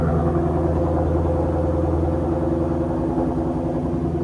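A 2024 Mustang GT with a Borla cat-back exhaust idles steadily, a deep rumbling burble that stays even and close without revving.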